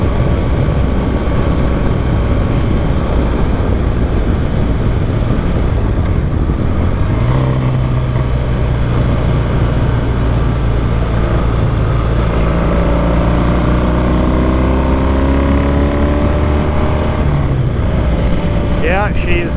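A classic Triumph Bonneville T140V twin runs loud and close with a steady throbbing idle, then rises into sustained revving and falls back, continuous throughout.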